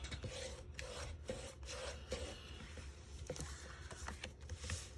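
Bone folder drawn along a paper card base to score it, a series of close, dry rasping strokes in short repeated pulls with brief gaps between, quiet and without speech.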